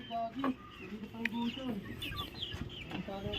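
Chickens clucking and chattering nearby in short broken calls, with a voice speaking briefly in Tagalog among them in a quiet setting.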